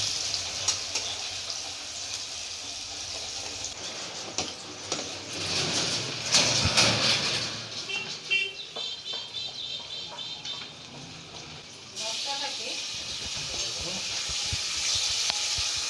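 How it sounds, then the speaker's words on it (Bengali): Onion frying in a pan for a crab curry, a hissing sizzle that swells and fades as it is stirred, with watery splashes and brief clatter midway. "পেঁয়াজটা একটু ভাজা হয়ে যাক, লাল হয়ে।"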